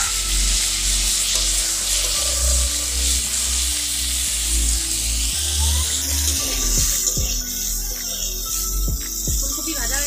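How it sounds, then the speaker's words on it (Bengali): Cauliflower frying in a karahi previously used for frying fish gives a loud, continuous oily sizzle, with a few sharp utensil scrapes and clinks toward the end. "ওই মাছ ভাজার কড়াইতে এখন ফুলকপিটা ভেজে নেব।"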